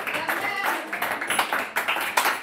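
Congregation in a French-speaking church clapping together, a quick, uneven patter of many hands close by, mixed with voices cheering through the short burst.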